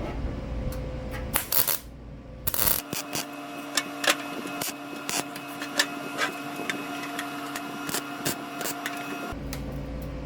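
Tack welding on a Type 4 oil cooler fitted to a Type 1 VW engine in tight quarters, heard as a steady crackling arc buzz with sharp ticks and a few loud bursts near the start.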